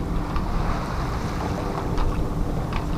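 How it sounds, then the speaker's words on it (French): Wind and waves aboard a sailing boat on a coastal passage, heard as steady rushing wind noise over the swash of water against the hull, with no engine and no voices. "On n'entend plus rien et on avance avec le vent seulement."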